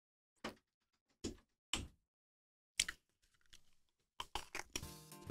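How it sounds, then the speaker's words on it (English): A door is handled and closed in a room, making a series of sharp, close knocks and thuds separated by quiet gaps, ending in a burst of rattling and rustling. "Okay, close the door."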